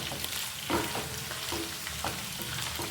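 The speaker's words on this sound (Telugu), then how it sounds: "చక్కగా ఫ్రై అయిపోయినాయి రొయ్యలు. ఇలా ఫ్రై చేసుకుంటే కూర టేస్ట్గా ఉంటుంది." Raw prawns fry in hot oil in a pan for a spicy curry, giving a steady, close sizzle with soft crackles and occasional stirring scrapes throughout.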